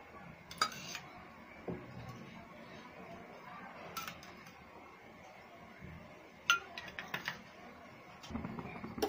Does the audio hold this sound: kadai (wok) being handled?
yes